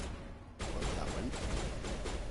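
Gunfire in Mass Effect Legendary Edition, a quiet lull that breaks into a rapid, continuous volley of shots aimed at a rock, rattling on steadily to the end.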